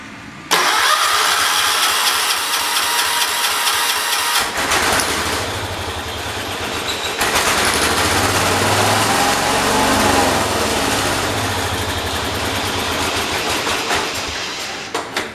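A John Deere 212 lawn tractor engine with a carburetor problem starts and runs loud and close, revving up fast and surging unevenly for about fifteen seconds, with no talk.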